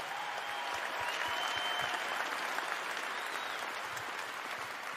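Sustained crowd applause at a basketball jersey retirement ceremony, even and continuous from start to finish, with a few faint voices in the background.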